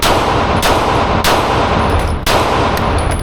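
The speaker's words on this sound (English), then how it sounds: "Glock 45 Gen 6. This is my first time shooting a Gen 6." Three loud, sharp reports from a Glock 45 Gen 6 pistol ring out at irregular intervals, close to the microphone, over a dense, noisy outdoor background.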